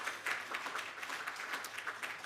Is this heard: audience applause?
yes